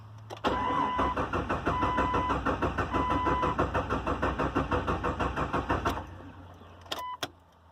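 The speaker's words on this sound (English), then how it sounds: "She cranks, but she won't fire up." A Jeep Cherokee cranks steadily for about five and a half seconds in a rapid, even rhythmic churn without catching. The starter then stops and a couple of faint clicks follow.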